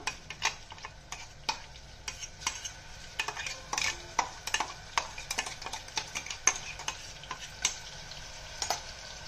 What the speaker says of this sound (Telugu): ఇప్పుడు అల్లం వెల్లుల్లి పేస్ట్ వేస్తున్నాను. ఇది పచ్చివాసన పోయేదాకా వేపుకుందాం.